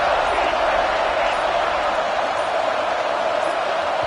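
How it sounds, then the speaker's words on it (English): A stadium crowd at a football game roars steadily as the home defense tries for a red zone stop, a dense, continuous wall of cheering noise with no breaks throughout. "This crowd is trying to inspire this defense to make a big red zone stop."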